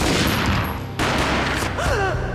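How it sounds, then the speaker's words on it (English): Gunfire in the Max Payne video game: a sharp burst of shots that cuts off abruptly, followed by a roaring wash of sound and a falling, warbling tone. "A gunshot boomed and she fell down in slow motion."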